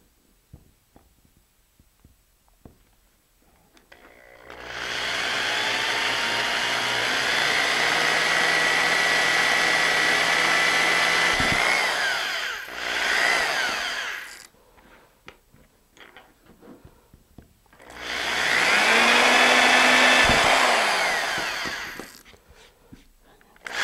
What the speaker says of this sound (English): since I already have the drill set up, so I'm just going to put a hole in it